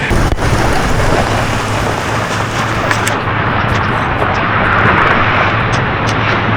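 Heavy rain pours down beside a creek in the forest, making a loud, dense, steady hiss of rushing water that fills the whole clip with no pauses.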